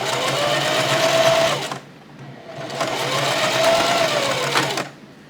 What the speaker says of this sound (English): you're going to stitch diagonally from corner to corner